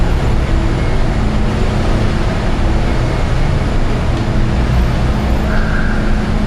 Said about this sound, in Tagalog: Naririnig yung daming kotse, nasa parking kami.